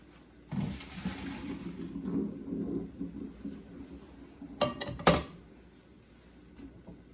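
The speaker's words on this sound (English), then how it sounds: "So we're going to drain this in the sink real fast and we're going to rinse this off." Gluten-free spinach pasta is drained and rinsed in a kitchen sink, giving a rushing pour of water with a few sharp clatters from the pot or strainer near the end.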